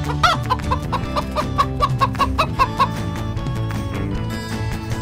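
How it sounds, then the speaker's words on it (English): A yellow chicken, likely a toy or animated one, clucks in a rapid run of short repeated calls over a busy backing track of children's music. "Yellow chicken."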